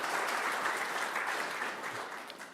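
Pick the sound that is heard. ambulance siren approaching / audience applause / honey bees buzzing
audience applause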